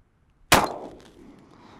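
A single sharp gunshot from a 10mm Springfield XDM firing PMC Bronze 170-grain hollow points rings out once, with a short ringing tail afterward.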